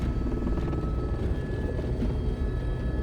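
A helicopter's steady, throbbing engine rumble on Mount Everest, loud and close, with a constant mechanical whine over the low drone.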